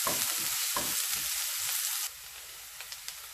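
Salted onions frying in a pan for a bolognese lasagne, a dense steady sizzle with scraping stirs, loud for about two seconds then dropping to a quieter crackle with a few soft clicks.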